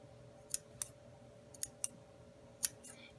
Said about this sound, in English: I'm just going to snip that